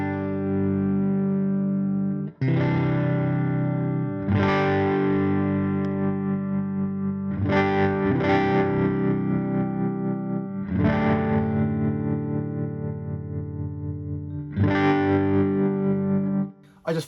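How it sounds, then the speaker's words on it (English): An electric guitar on a clean tone runs through a tremolo pedal. Sustained chords are struck roughly every two seconds, each ringing with a pulsing, wavering volume, loud and up close with no talking. "Next up is the tremolo, which is new."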